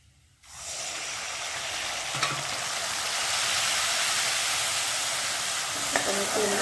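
Dal hits a hot tempering in a pan and sets off a sudden loud sizzle that keeps going as a steady hiss, close by, with faint clinks of utensils near the end.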